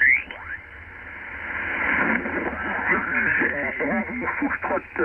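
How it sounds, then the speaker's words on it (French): Amateur radio reception on the 40 metre band around 7 MHz, band-limited and hissy, with a shortwave voice talking through the static and a brief tuning whistle at the start. "Je vous ai fait écouter quelques secondes de la bande du 40 mètres, le 7 mégas"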